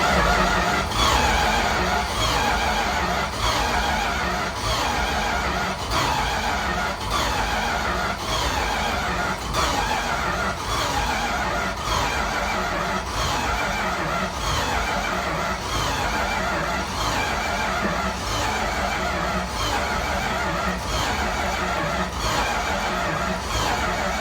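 Big block engine swapped into a Power Wagon, fitted with a Thermoquad carburetor, running loud and close with a steady, rough, rhythmic pulsing throughout, no voices heard.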